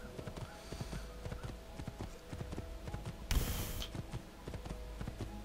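Horse hooves clip-clop at a steady walking rhythm in Assassin's Creed II, close and fairly loud over a light ambient bed, with a brief burst of noise partway through.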